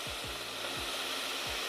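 Chicken livers sizzle in hot oil in a frying pan, a steady bright hiss with a few soft low thumps scattered through it, close and continuous, with no talking.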